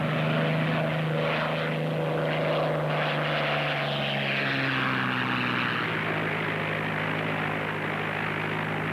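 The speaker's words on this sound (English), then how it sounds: "A plane?" Propeller airplane engine droning steadily throughout, a continuous loud hum with shifting pitch as the aircraft passes, with no voices over it.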